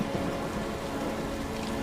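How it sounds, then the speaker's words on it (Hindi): Steady rain falls in a dense, even hiss of drops with no let-up, close and moderately loud, no voices. "अरे बारिश हो रही है"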